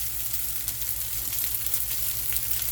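Cold cooked rice is stirred into vegetables frying in a pan for fried rice, giving a steady close sizzle with faint scraping stir sounds and no talk.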